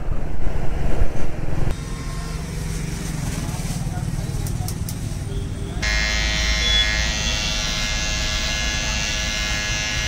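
An electric razor shaving a beard buzzes loudly and steadily up close, with its pitch and tone shifting partway through, and no speech over it.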